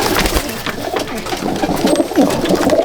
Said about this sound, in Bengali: এই যে আমার আরেক পেয়ার পায়রা